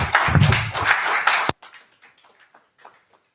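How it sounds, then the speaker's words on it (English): A brief round of audience clapping at a land surveying seminar, moderately loud for about a second and a half, then cut off, leaving faint speech behind. "Can we give him a good clap?"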